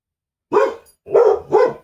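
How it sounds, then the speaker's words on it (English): A dog barks three times, loud and close, with one single bark followed after a short gap by two quick barks. "What are you barking on about?"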